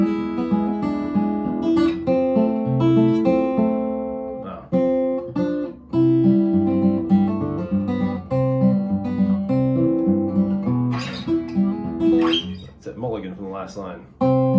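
Acoustic guitar fingerpicks Freight Train in Piedmont style, an alternating bass under a bright melody, played steadily and close with a brief pause partway through.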